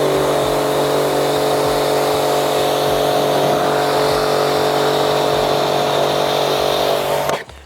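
A pressure washer sprays water over a car during a Meguiar's snow foam detailing wash, a loud steady hiss with a constant motor drone underneath that runs unbroken for several seconds, then cuts off abruptly at the end.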